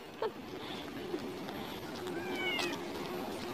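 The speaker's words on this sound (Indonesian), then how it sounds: "Ternyata ada kucing beneran." A cat meows a few times at a moderate distance over steady background noise and murmur.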